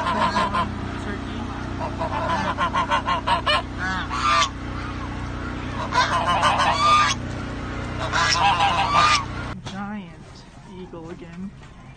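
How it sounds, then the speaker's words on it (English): Geese honk loudly and repeatedly at close range in clustered bursts, with ducks and a turkey also present, and a person's voice cuts in briefly toward the end. "There's some ducks, some geese, and a turkey."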